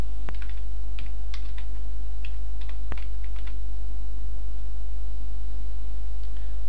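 A computer keyboard clicks in scattered light taps and bursts, close and fairly quiet, over a constant low electrical hum while editing text in Adobe After Effects.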